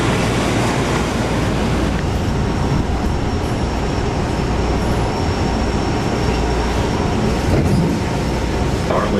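Interior of a moving Boston subway train heading to Prudential, a continuous loud rumble of wheels on track with steady noise and faint squeals throughout.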